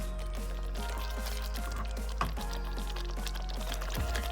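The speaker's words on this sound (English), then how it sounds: "I'll let you enjoy the bubbling for a minute." Soft, irregular bubbling and popping of thick chicken curry simmering in a pot on a low flame, steady and close, with small drips and splats throughout.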